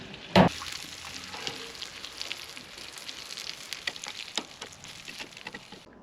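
Onions fry in a cast iron pan on an outdoor barbecue grill, a faint steady crackling sizzle with a sharp knock near the start and scattered small pops.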